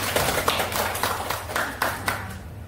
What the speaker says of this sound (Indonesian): tepuk tangan buat semuanya ya